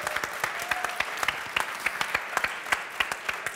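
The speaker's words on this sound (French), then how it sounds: "on peut les applaudir." An audience at a developer quiz event claps for the winning team, a continuous patter of applause with crisp individual claps popping out, moderately quiet and without speech.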